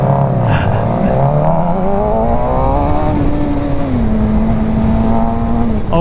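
A supersport motorcycle accelerates hard from a stop, its engine note loud and close, rising through the revs with a brief shift before holding a high, steady roar.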